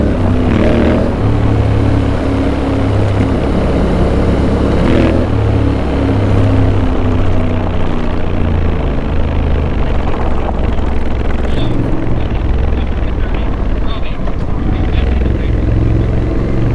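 A dual sport motorcycle climbs a trail along the Molalla River in Oregon, its engine droning loudly and steadily with shifting revs over wind rush, recorded close on the bike.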